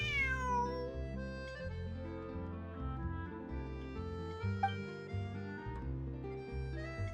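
A cat meows within the Genshin Impact game world, its cries set over a steady musical background that plays throughout.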